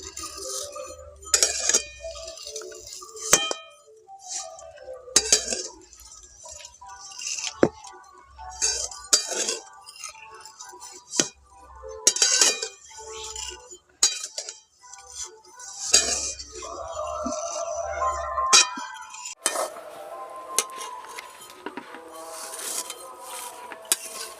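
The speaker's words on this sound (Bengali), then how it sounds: "হালকা আঁচে নাড়াচাড়া করে ভেজে নিয়েছি" Semai vermicelli stirred and fried in a pan over low heat, with a utensil clinking and scraping against the pan in irregular bursts, then a denser rustling clatter near the end; no voices.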